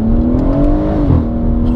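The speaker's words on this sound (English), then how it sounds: "Oh, that exhaust." BMW M140i, Litchfield Stage 2 tuned to 450 bhp, with its exhaust droning loudly up close in a steady revving pull that rises slightly then eases, heard on its own.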